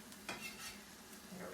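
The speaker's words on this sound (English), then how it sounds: "And I'm gonna stir my egg in." Wooden spoon or spatula stirring egg through hot dog fried rice with toasted sesame in a hot pan, a soft scraping stir over a steady low sizzle, close and alone.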